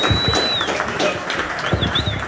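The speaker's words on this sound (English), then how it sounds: "Another round of applause." Applause at a business ribbon cutting for Elevator Spaces, a steady crowd clapping with a couple of sharp whistles rising above it, fairly close and continuous throughout.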